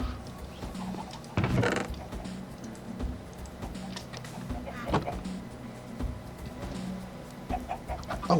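Minecraft chickens give a few soft, scattered clucks at moderate distance over a noisy, humming game background, with one louder burst near the start.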